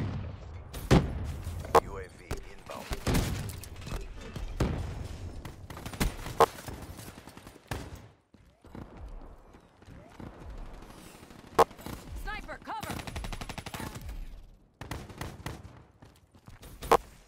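Shotgun blasts in a video game ring out as several sharp, loud bursts among rapid gunfire and thuds, mixed with stretches of talking.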